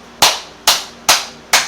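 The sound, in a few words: hand clapping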